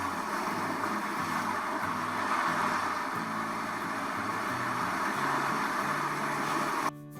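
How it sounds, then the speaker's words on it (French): Ocean waves played from a Google Home speaker: a constant broadband roar of surf, steady and unbroken, with faint low tones beneath, ending with a sudden cutoff. "Voici à quoi ressemble le bruit de l'océan."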